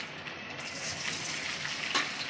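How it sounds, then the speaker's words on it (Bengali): Water gushes into a pan of small gura fish cooking with lubba, onion and green chilli, a steady close pour lasting a couple of seconds with no talk. "এখন একটু পানি দিব,"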